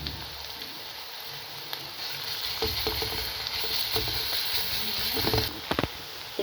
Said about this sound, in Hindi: ये देखिए, प्याज हमारे फ्राई हो गए हैं। और इसके अंदर मैं डालती हूँ लहसुन अदरक की पेस्ट।